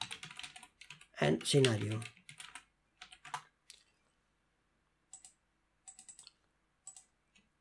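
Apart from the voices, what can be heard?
typing on a computer keyboard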